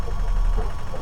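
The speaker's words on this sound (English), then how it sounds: "So right now it's in a spin cycle. It's getting to the end of the wash." A washing machine aboard a yacht hums through its spin cycle, a low, steady, rumbling drone with a faint pulsing throb, close and continuous with no voices.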